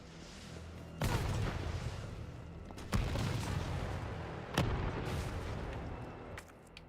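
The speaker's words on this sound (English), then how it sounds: "That's a rocket launcher!" Three heavy rocket launcher blasts in a video game, each a loud sudden boom followed by a long rumbling tail, spaced roughly two seconds apart over constant background noise.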